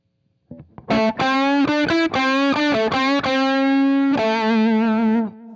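Electric guitar played through a Pettyjohn Chime MKII pedal with its tilt control turned fully left, giving a loud, saturated series of picked notes and short chords with rich harmonics, each attack distinct, ringing alone.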